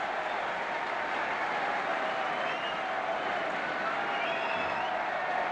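A vast stadium crowd roars after Arsenal's FA Cup final win over Liverpool in 1971, a dense, steady wash of cheering and applause heard from a distance.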